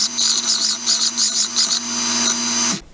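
Wood router on a router table shaping the bottom edge of a rustic Western-style wooden hat rack: a loud, steady high-pitched motor whine with pulsing cutting bursts as the bit bites the wood, then the motor winds down at the end.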